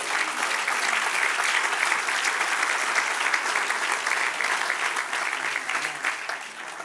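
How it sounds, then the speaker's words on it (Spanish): A church congregation bursts into sustained, dense applause that fills the room at steady loudness for several seconds, tapering slightly at the end, with no talking over it. "Dale un aplauso al que reina."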